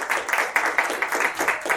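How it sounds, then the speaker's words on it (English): A small audience at a regular school board meeting applauds the board, giving a short burst of rhythmic, fairly close clapping with distinct individual claps. "If we could please give our board a round of applause and thank them for their service."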